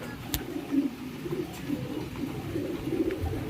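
Soft, low pigeon coos near a bird trap, a few murmured calls repeating over faint outdoor background, with one sharp click early on.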